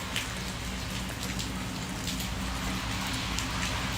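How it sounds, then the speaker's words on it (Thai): Heavy rain pours steadily in a dense, even hiss beside a house next to a road, with a low rumble underneath throughout. "ฝนได้ตกหนักแล้วนะคะ ทุกคน"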